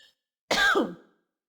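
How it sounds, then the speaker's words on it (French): A single short throat clearing, close and abrupt, set against near silence. "désolée pour mon raclement de gorge et ma toux"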